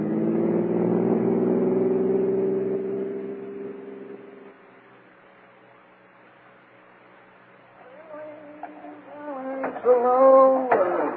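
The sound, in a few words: car engine running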